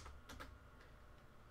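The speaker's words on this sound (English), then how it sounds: "I'm going to come up here and open up the terminal, and I'm going to type in the command sudo" A few soft keystrokes on a computer keyboard as a terminal command is typed, faint and close, with no voice over them.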